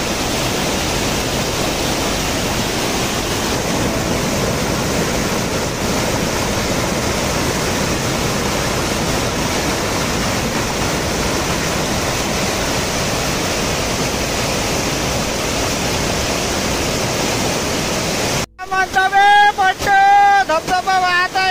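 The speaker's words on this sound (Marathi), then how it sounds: "इकडून वाहत आहे मस्तपैकी धबधबा आपला" Somnath waterfall pouring steadily as a broad, continuous roar of rushing water close by, ending with a brief burst of talk over the flow.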